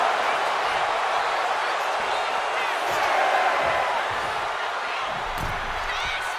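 A dense crowd roars and cheers steadily throughout in the wrestling video game WWE 2K26, a wash of many voices with occasional thuds and slaps cutting through.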